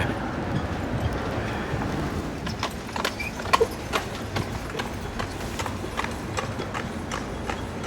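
The hooves of Jesse, a horse, clip-clop steadily at a walking pace. The sharp, close knocks repeat in an even rhythm over outdoor wind noise.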